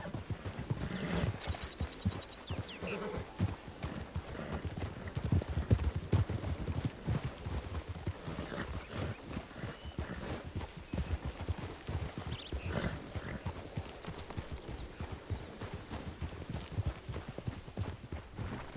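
Several horses walking, hooves clip-clopping in a busy, irregular rhythm for the whole stretch, fairly close, with faint background noise and occasional high electronic tones.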